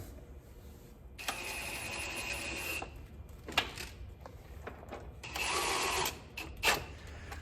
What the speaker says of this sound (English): Now you want to go back through and put back on all of these plastic 10mm flange nuts